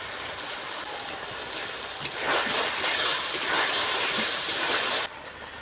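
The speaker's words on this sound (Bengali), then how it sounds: "মশলার বাটিটা একটুখানি ধুয়ে আমি জল দিয়ে দিব" Water is poured into a pan of cooking spices, making a steady hissing rush that swells for about three seconds and then cuts off abruptly.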